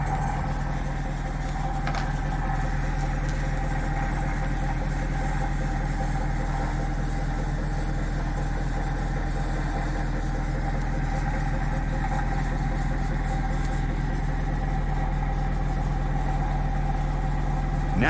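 A homemade magnetic switching motor running at full power, around 1213 RPM, gives a steady, continuous hum with a strong low drone and a constant whine held level for the whole stretch, with no speech.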